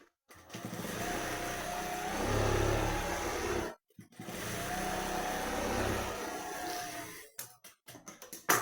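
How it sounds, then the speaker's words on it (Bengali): Sewing machine top-stitching Patiala pants: a steady mechanical whir runs in two bursts of a few seconds each, split by a short pause, then several quick stuttering stitches near the end. Nobody talks. "এবারে এইভাবে একটা চাপ সেলাই দিয়ে নেবো"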